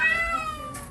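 A single close cat meow, drawn out and slightly falling in pitch, from one of dozens of cats taken in during a large rescue.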